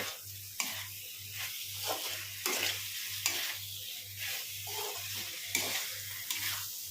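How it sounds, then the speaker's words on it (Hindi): Jackfruit pieces fry with spices on a high flame, a continuous close sizzle broken by regular scraping stirs and clacks of the spoon roughly every half second, with a steady pulsing hum underneath. "अब हम गैस का फ्लेम को हाई कर लेंगे, इनको भून लेंगे।"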